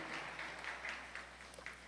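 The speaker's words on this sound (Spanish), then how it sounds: "Den un fuerte aplauso al Señor" Congregation in a church service claps briefly, very faint and distant, a soft patter of applause over a low steady hum.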